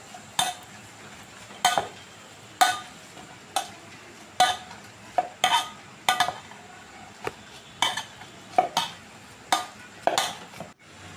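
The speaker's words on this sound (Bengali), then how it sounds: "এবার জলটা ফেলে আমরা সিদ্ধ করা আলু ম্যাশ করে নিব" Boiled potatoes are mashed in a bowl with a utensil for an egg roll filling, about a dozen sharp clinks and scrapes against the bowl in an uneven rhythm, close and clear.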